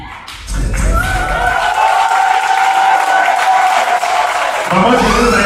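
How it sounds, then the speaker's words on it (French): Guests at Pierrot and Rita's wedding break into loud, sustained applause and cheering that swells after a brief lead-in and carries on steadily, with voices mixed into the crowd noise. "je vous prie d'applaudir très très fort"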